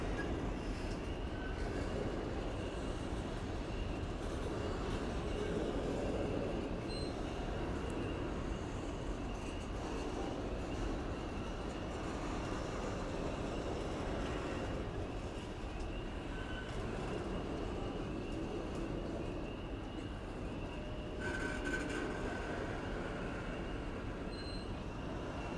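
A Norfolk Southern SV62 freight of empty cars rolls past westbound, a long, steady rumble of wheels and cars with faint squeals and clanks, sustained and evenly loud from start to finish, with no voices.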